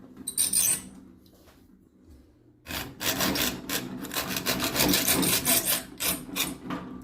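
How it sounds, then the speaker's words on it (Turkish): A hacksaw rasps back and forth in quick, steady strokes close up, cutting a channel into a screwdriver during a hair dryer repair, briefly pausing before resuming louder and continuous; no speech. "demir testereyle"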